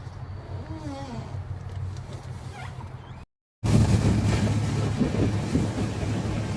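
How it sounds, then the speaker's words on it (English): Steady wind roars against a small boat on the Chesapeake near Hampton, Virginia, a dense rushing noise close to the microphone that grows louder and heavier after a brief cut, with a low engine-like drone underneath. "I can feel wind here pushing me over, pushing the whole boat sideways."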